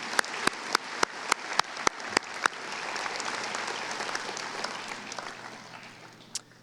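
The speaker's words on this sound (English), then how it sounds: "Another round of applause for Nolan, please." Audience applause at the Lakeview High School 2022 graduation ceremony in St. Clair Shores, opening with a few sharp, distinct claps before a dense, steady round of clapping from a large hall that slowly fades.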